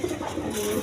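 A male Bombay pigeon's deep, throaty coo carries briefly and close, a short continuous warble with no voices over it.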